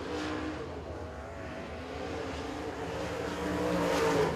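A race car runs a qualifying lap at Laurens County Speedway, its engine drone steady and somewhat distant, then rising as it draws nearer toward the end.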